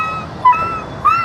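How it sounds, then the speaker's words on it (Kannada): Dogs give short, high whimpers and thin yips, two brief rising whines close by over a quiet background. "ಅವನ ಕರ ನಮ್ಮ ನಾಯಿಗಳೆಲ್ಲ ಓಡ್ ಬಂದ್ಬಿಡ್ತಾವ ಇವರು"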